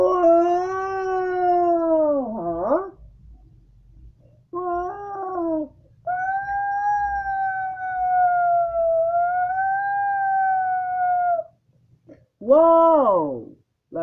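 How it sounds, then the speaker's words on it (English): A stray dog in the animated movie SCOOB! howls in several drawn-out, wavering cartoonish wails with short yelping bursts between them, loud and close. "we got a stray dog"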